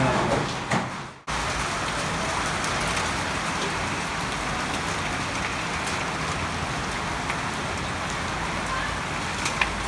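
Heavy rain, said to carry hail, pours down in a dense, steady roar that fills the whole stretch. A short drop-out comes near the start, then the downpour runs on unbroken and fairly loud.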